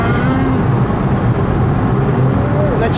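Heard from inside the cabin, a Fiat Punto in fourth gear strains uphill while overtaking a truck: a steady, loud engine drone mixed with road and tyre rumble.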